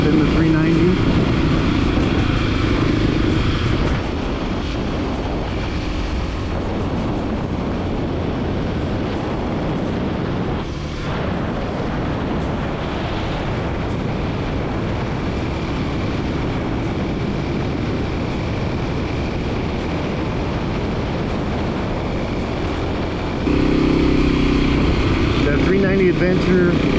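A dual sport motorcycle engine buzzes steadily under heavy wind rush while riding on the road, a continuous loud drone with slight shifts in pitch.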